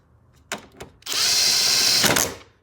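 A power drill drives a bolt back in on a 2019 Mustang GT during a hood strut install, with a couple of short clicks and then one loud, close, sustained whir lasting about a second before it cuts off.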